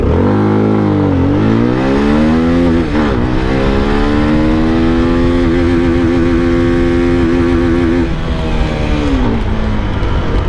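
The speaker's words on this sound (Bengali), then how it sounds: "এই বাইকটা সেকেন্ড গিয়ারে ম্যাক্সিমাম স্পিড কতটুকু ডেলিভারি করতে পারে" A CFMOTO 300SR motorcycle engine revs hard in second gear, its loud, steady rising whine climbing in pitch across several seconds toward top speed, dipping briefly early on, with no talking over it.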